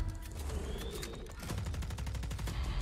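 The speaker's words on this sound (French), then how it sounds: "les petits tirs dans le vide comme ça, juste pour le style, c'est incroyable" Gunshots fired into the air in a Call of Duty Warzone trailer, a rapid run of loud, sharp bursts repeating steadily over a low rumble.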